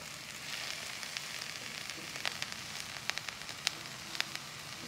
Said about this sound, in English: we're gonna go ahead and add in the red peppers.